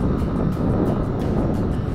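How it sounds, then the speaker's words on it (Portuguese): Honda Pop 110i motorcycle on a ride: a steady, loud low engine drone blended with heavy wind rush, continuous and close throughout. "Moto tranquila, anda bem."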